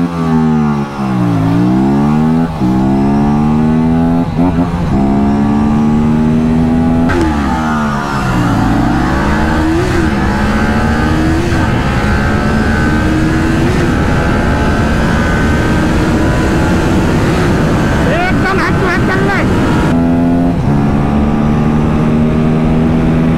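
A Kawasaki Ninja 400 and an Aprilia RS457 sport motorcycles rev loudly and ride past one after another, engine pitch rising and falling with each pass and gear change, sustained and close, with no talking.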